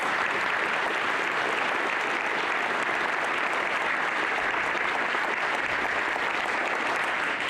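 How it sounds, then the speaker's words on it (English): A crowd at a Wreaths Across America ceremony at Parkman School claps steadily and evenly throughout, a dense, sustained round of applause with no voices standing out. "Please join me in giving them a round of applause."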